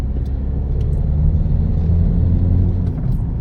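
A Citroen DS4 pulls in third gear with a steady, close engine rumble and road noise that holds level throughout, with no voices.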